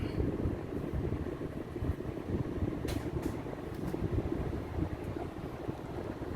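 An air conditioner's indoor fan, freshly cleaned, blows a strong, steady rush of air close by, a constant broadband whoosh with no speech.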